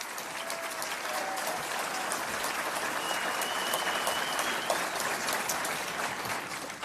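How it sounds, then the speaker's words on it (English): A town hall audience at a provincial Premier's public hearing in Alberta gives sustained applause, an even wash of many hands clapping at moderate distance for several seconds, with no speech over it. "Thank you for the applause coming in for the Premier."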